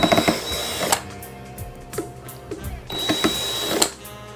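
Screws being backed out of a JBL Venue Sub 10 subwoofer with a power screwdriver, two loud whirring bursts at the start and end with clicks and handling knocks between, close up.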